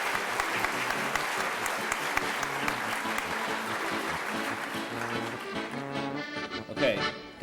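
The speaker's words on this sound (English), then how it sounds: "Let's give another big round of applause for our second group of Little Miss and Mr." A pageant crowd applauds the Little Miss and Mr. contestants on stage, sustained clapping that thins out toward the end as music and a few voices come through.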